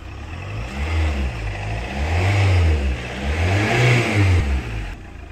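A Chevrolet Captiva diesel engine during overhaul revs repeatedly in slow, rising and falling swells over a rough idle. The sound is loud and close, with no talking.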